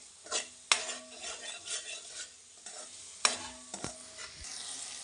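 Spices for a tomato chutney cook and get stirred in a pan, with a utensil scraping and clinking against the metal in bursts over a soft, steady sizzle; no voices.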